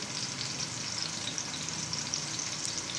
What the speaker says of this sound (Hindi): इसको अच्छे से भूनेंगे प्याज को